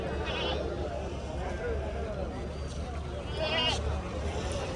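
Black and brown goats bleat at a large goat market in Konganapuram near Salem, Tamil Nadu, with a few loud calls rising over nearby talk and crowd murmur.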